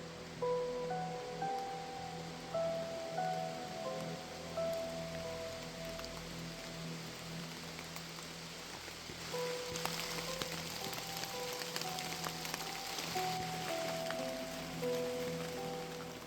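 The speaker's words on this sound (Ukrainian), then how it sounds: "Щось мені кажеться, що дощ починається." Soft steady rain starting in a forest, a diffuse hiss of drops that thickens midway, with faint tones drifting in the background and no talking.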